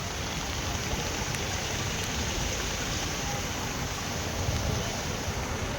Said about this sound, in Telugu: ఇక్కడ ప్రజెంట్ అయితే వర్షం పడుతుంది